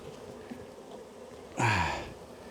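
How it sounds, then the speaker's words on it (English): Honey bees fly around an open hive during a harvest, giving a faint steady hum throughout, with a short vocal exclamation standing out near the end. "the bees are flying like crazy."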